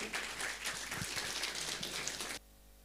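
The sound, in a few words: audience applause welcoming a music group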